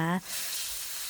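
Pieces of catfish, cleaned with tapioca starch and salt, drop into a hot pan of fried curry paste for a Thai basil stir-fry, giving a loud, steady sizzle that starts after a brief voice and continues alone.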